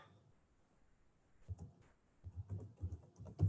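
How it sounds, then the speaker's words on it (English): Keys tap on a computer keyboard, starting quietly, then a close burst of irregular keystrokes that grows louder and quicker toward the end. "let me go to a blank document and I type in something like"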